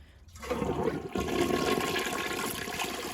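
A Jacuzzi Perfecta toilet flushes, opening with a sudden loud rush of water that settles into a steady swirling drain, close by, with no talking.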